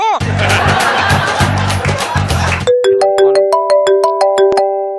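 A mobile phone ringtone plays a bright, repeating electronic melody after a burst of loud, lively chatter and laughter.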